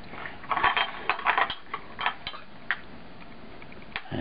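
A spoon stirring in a cup of tea, a quick run of bright clinks and taps against the cup edge, clustered early then sparser, close and clear with no voices.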